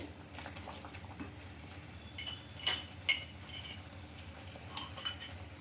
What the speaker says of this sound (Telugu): మళ్ళీ ఒక స్పూన్ అలా వేస్తూ కలుపుతూ ఉండాలి మధ్య మధ్యలో